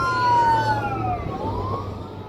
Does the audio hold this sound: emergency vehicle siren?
yes